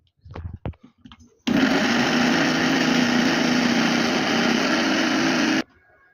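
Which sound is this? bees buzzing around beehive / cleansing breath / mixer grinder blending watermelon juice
mixer grinder blending watermelon juice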